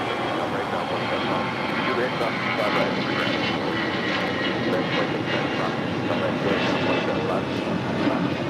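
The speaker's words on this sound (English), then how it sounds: "Taking off, that was American Airlines flight 2546 heading to Mexico City in an A319" An American Airlines Airbus A319 bound for Mexico City takes off at LAX, its engines a loud, steady broadband roar that holds for the whole stretch without easing.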